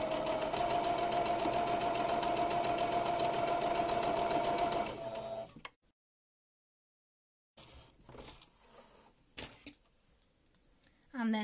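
A sewing machine runs steadily while hemming a cloth face mask, then stops; after a silent gap, soft clicks and handling noises follow.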